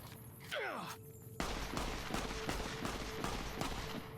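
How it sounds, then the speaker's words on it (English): Gunfire in the video game Fallout: New Vegas, a run of sharp repeated shots in a steady rhythm with a few early whooshing sweeps, loud and close over a busy game background. "I believe your gun does indeed work."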